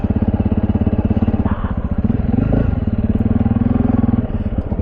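A Honda CRF300 Rally motorcycle engine runs close and loud with a fast, even single-cylinder thump, swelling briefly mid-way as the throttle opens before settling back to a steady idle-like beat.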